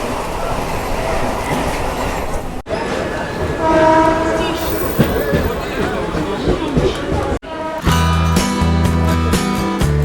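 A local train on the Shantipur line rumbles along with rattling wagons and clattering wheels, a horn sounding briefly, while voices murmur from a crowded carriage.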